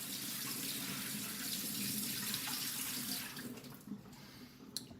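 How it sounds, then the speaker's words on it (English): Water poured out of a container into a sink, a steady loud splashing stream that runs for about three seconds, then trails off into scattered drips and small splashes. "I'm going to pour this all out."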